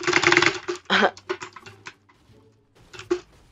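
Quick bursts of computer keyboard clicking while playing Fortnite, a flurry of keystrokes up close followed by a few scattered taps and short pauses.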